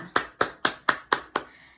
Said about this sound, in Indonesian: tepuk tangan buat Citra